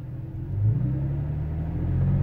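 A vehicle engine revved up from idle to a sustained highway-speed roar, rising after a brief quiet start and holding a steady, moderately loud rumble.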